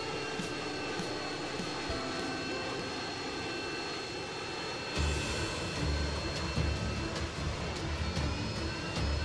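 Steady airplane engine drone of a Playmobil Summer Fun Airways passenger plane in flight in an animation, a constant hum that grows louder and rougher about halfway through, with no talking.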